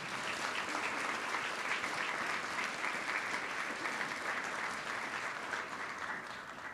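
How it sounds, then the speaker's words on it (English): A large audience at a medical school's inaugural graduation ceremony applauds steadily, a dense even wash of clapping sustained throughout and tapering slightly at the end. "our round of applause, please"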